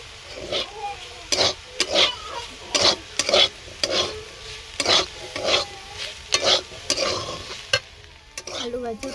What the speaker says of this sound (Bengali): আলু ভাজা প্রায় হয়ে এসেছে,